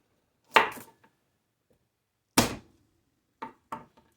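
Sharp, heavy thumps against a cutting board as vegetable cloves are smashed to loosen their skins, two strong blows followed by two lighter ones, each ringing briefly into silence.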